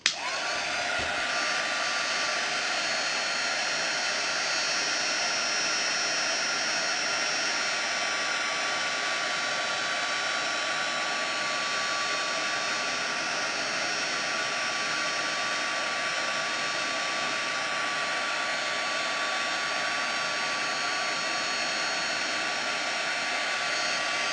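Hair dryer blowing hot air onto a stuck magnetic photo album page, a loud, steady, unbroken whir held close the whole time.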